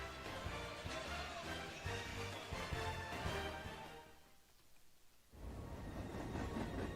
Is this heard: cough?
no